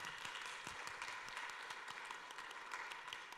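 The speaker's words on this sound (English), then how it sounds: "Please give them a round of applause" Applause from a conference audience after a money management and wealth building panel, scattered individual claps audible within a moderate, steady round of clapping, fairly faint overall.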